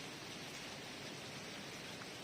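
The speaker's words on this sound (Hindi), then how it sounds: "इतनी तेज़ धूप में और साथ ही इतनी तेज़ बारिश भी है" Heavy rain pours down in bright sunshine, a steady dense broadband hiss with no breaks, fairly faint and continuous throughout with no voices.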